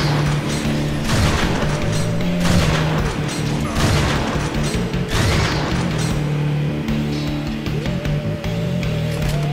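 Heavy shotgun blasts in the retro shooter Wrack boom at intervals over a loud, dense game soundtrack.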